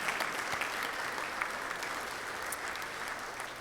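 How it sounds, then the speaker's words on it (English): An audience at a Rotary club meeting claps in steady, sustained applause, dense and even throughout, heard from within the room with no talking over it. "Let's give Eric a round of applause"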